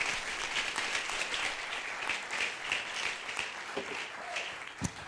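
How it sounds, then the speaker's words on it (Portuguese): A church congregation applauds during a sermon, a dense wash of many hands clapping at moderate distance that holds steady and then thins, with no speech over it. "Uma salva de palmas ao Senhor."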